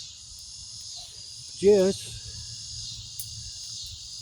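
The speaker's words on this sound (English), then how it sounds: "Oh, here comes the cicadas. They're out now." Cicadas buzz at night at a campsite in a steady, high, faint drone that runs throughout, broken once by a short spoken word.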